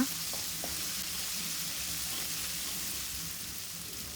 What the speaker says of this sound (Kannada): ಶುಂಠಿ ಬೆಳ್ಳುಳ್ಳಿ ಪೇಸ್ಟ್ ಚೆನ್ನಾಗಿ ಫ್ರೈ ಆಗಿದೆ